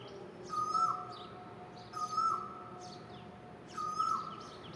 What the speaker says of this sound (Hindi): हमारे गार्डन में बहुत प्यारी कोयल की कूकने की आवाज़ आ रही है